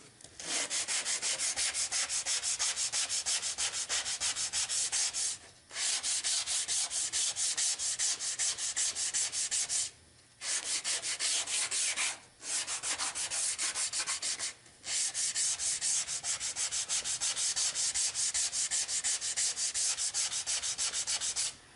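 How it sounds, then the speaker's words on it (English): Hand sanding along the curved end-grain edge of a small wooden chest lid: steady rasping back-and-forth strokes in long even bursts, close and loud, separated by four brief pauses, with no talking. "sand it out really well so you don't feel any roughness to that end grain"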